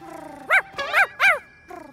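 Cartoon dogs barking in an animated children's show, three loud, bright harmonic barks in quick succession followed by a softer fourth, with no talk over them.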